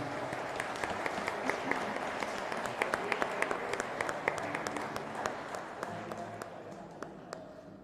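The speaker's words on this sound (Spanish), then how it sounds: "un fuerte aplauso para ellas." A congregation at a church Mass applauds steadily, many hands clapping together in a dense, sustained wash that fades slightly at the end.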